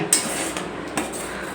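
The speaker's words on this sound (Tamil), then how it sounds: "இப்போ வந்து முருங்கைப்பூ டீ வடிகட்டுறோம்" Moringa flower tea is strained from a pot, marked by a few faint metallic clinks and taps of utensil against cookware, spaced out over a quiet background.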